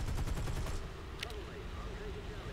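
A short, rapid burst of machine-gun fire from a P-38G Lightning in the War Thunder flight game, sharp and close at the start, then fading into steady engine drone.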